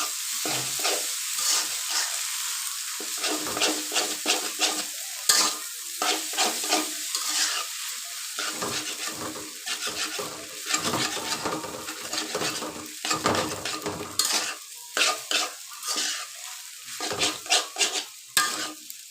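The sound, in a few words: stirring pasta and noodles with egg in a pan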